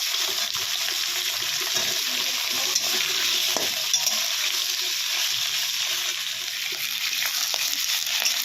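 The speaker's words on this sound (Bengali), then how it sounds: "এখন কড়াইটার মধ্যে আলুগুলোকে ভেজে নেব" Potatoes fry in hot oil in a wok with a loud, continuous close-up sizzle and occasional stirring clatter, and no one speaks.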